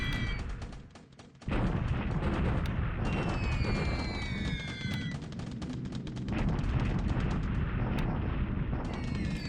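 Bombs explode in the War in the Pacific strategy game as a continuous heavy rumble of blasts and artillery-like booms, loud and sustained with a brief dip early on.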